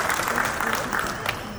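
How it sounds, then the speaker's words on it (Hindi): Crowd applause at an Independence Day event at Chandigarh International Airport, a continuous, fairly loud burst of many people clapping that fills the whole moment, with a voice faintly audible beneath. "अपनी आज़ादी, अपनी संप्रभुता के लिए एक बार ज़ोरदार तालियां बजा दीजिए।"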